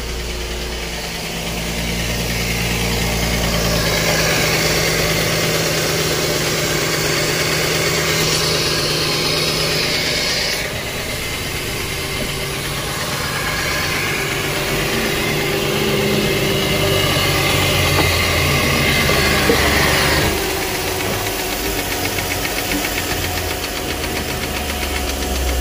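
The engine of a 2009 Mercedes-Benz ML350 with fault codes including P2009, P0414 and P0598 idles loudly up close with a rough, knocking mechanical clatter and steady vibration. It continues unbroken for about twenty-five seconds with no talking.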